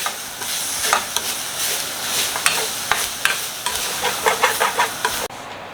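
Garlic and onion fry in a pan for stingray fish curry, a loud steady sizzle broken by repeated scraping stirs, with no one talking.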